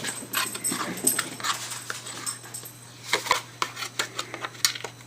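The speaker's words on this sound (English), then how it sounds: "So my dog and my cat are playing right now." Irregular rustling and scuffling up close, with soft panting and a few small whimpers as a dog and a cat play, a steady low hum underneath.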